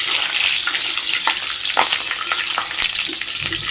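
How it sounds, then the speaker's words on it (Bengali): Panch phoron spices and bay leaves fry in hot oil for a Chittagong-style mixed vegetable pachan, giving a continuous close, crackling sizzle with brief stirring scrapes and no voices. "এটাকে ভালো করে ভেজে নেবে"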